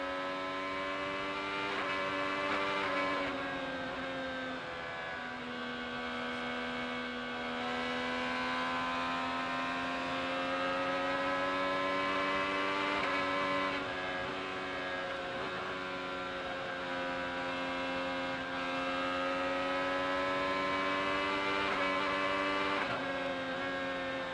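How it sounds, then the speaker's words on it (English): Onboard engine of an IndyCar racing at Iowa Speedway during a 250-lap race, a steady high-pitched whine held near constant speed around the oval, with slight pitch dips and rises from lap to lap and no talk. "Climb on board the Outsiders Radio, the Meyer Shank Sirius XM machine of Felix Rosenquist."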